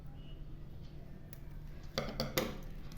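Scissors snip a plastic wire strand for basket weaving, giving a few quiet, sharp clicks close up near the end after a brief stretch of near silence.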